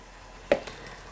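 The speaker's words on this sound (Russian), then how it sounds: "Нарезаем как попало" A single crisp knife chop through basil on a cutting board, followed by a softer second tap, in a quiet room.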